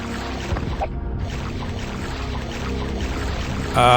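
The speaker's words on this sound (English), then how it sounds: "I can swim at a high speed. I can swim at an even higher speed." Fast swimming through water in the video game Daggerfall, a continuous sloshing, gurgling water rush under steady game ambience, ending with a brighter splash.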